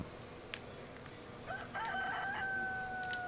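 A rooster crows in the survival video game DayZ, a moderately loud cock-a-doodle-doo rising over faint ambient game noise in the second half, held as a long drawn-out call.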